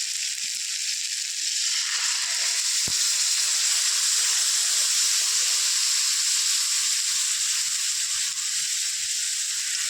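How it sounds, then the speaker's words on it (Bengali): Coconut milk simmering in a pan of cooked pointed gourd for a Bengali vegetarian curry, giving a steady, close hiss and sizzle throughout with one brief knock partway through. "এবার আমি নারকেলের দুধটা ঢেলে দেবো।"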